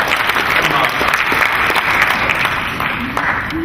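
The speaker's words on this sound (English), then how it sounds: "Give them a round of applause." An audience at a healthcare innovation conference applauds, a dense, steady wash of many hands clapping that slowly thins toward the end, fairly loud and close in the hall.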